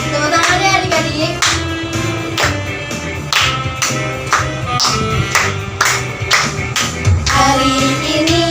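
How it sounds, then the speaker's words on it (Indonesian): Children clap along to a lively Sunday school worship song, steady rhythmic hand claps mixed under loud singing and music throughout. "Tepuk tangan ya adik-adik."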